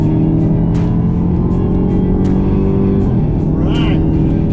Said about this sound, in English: Oh, man, what a cool car,